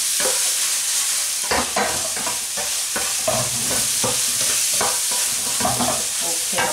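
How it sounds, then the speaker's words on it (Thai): Seasoned minced pork is stir-fried in a pan, giving a loud, steady sizzle broken up by repeated scraping and stirring strokes. "ผัดให้เขาพอให้เขาได้ที่นะคะให้เขาสุกนะคะ"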